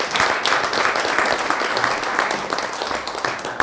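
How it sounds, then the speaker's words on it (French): An audience claps steadily and fairly loudly for a contestant at a televised French startup pitch show, a dense, even wash of applause lasting a few seconds with no voices over it. "Je vous demande d'applaudir"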